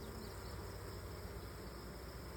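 Honeybees buzzing around beehives, a steady, dense, faint droning hum from many insects with no talking.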